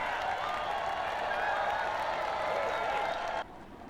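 Steady, dense applause and crowd noise from the team and fans celebrating the day's stars in the MotoGP 19 video game, a continuous wash of clapping that holds level before dropping off abruptly near the end.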